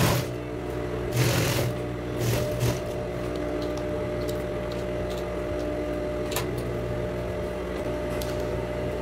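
A sewing machine stitches a 3-centimetre hem band around children's shorts, running in a steady, continuous mechanical whir with a few heavier bursts of stitching near the start.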